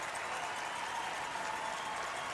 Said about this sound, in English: that applause you hear is for Kevin as he makes his way to the hack